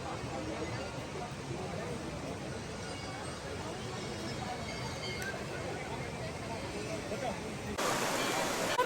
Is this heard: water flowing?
yes